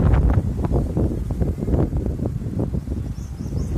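Strong wind gusts across an open outdoor spot where fodder has been covered, roaring loudly and continuously against the microphone with a low rumble throughout.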